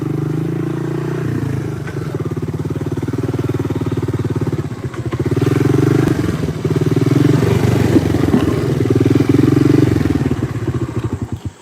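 A Honda ATC250ES Big Red three-wheeler engine drones loud and close while riding through a river, a steady throbbing chug that rises and falls slightly with throttle, with splashing clatter underneath.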